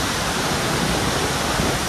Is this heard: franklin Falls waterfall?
yes